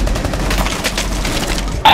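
Rapid, loud gunfire from the Swatting Simulator video game forms a dense, continuous burst of shots close up, ending with a sharp final crack.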